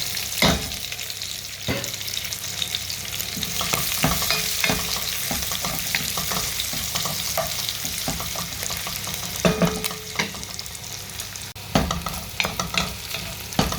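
Garlic and onion sauté in a pot with a loud, continuous sizzle broken by repeated sharp scraping and stirring knocks of a utensil against the pot, close up and without speech.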